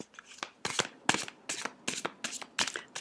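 A deck of cards is shuffled in a series of rapid riffling bursts, roughly six or seven close, crisp rustles in quick succession with short pauses between, with no talking.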